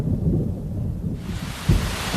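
A thunderstorm in the Amazon basin during the rainy season: steady, heavy rain hisses while low thunder rumbles underneath, with one sharp, nearby crack toward the end.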